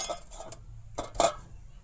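A metal spoon scraping and scooping the pulp of a cracked-open bael fruit, giving a few quiet, close clinks and scrapes in short separate strokes.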